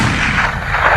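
A dense burst of gunfire, loud and sharp, fills a short moment with overlapping heavy reports from shots fired near an escape tunnel at the Stalag Luft III prison camp.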